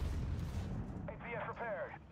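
Tank cannon shot from an Altay tank in the video game Armored Warfare: a deep, rumbling boom that fades out, followed by someone talking.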